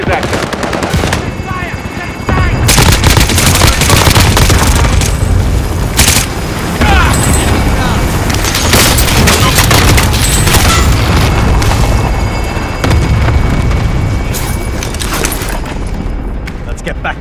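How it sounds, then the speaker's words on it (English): Cluster strike explosions in Call of Duty: Warzone, a dense, loud barrage of overlapping booms and rapid gunfire rolling on continuously for many seconds, with game voice callouts mixed in underneath. "Cluster strike is active."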